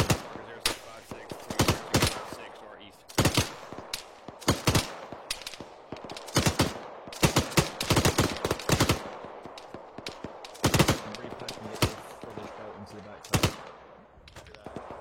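Rapid bursts of video-game gunfire, sharp loud cracks in irregular volleys and single shots throughout, with a player's voice talking faintly in between.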